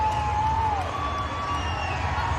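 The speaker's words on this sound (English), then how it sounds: "getting the crowd pumped up" A crowd at a live wrestling event cheers and whoops as a wrestler rallies them, a short burst of loud mixed shouting with a whistle-like tone riding over the din.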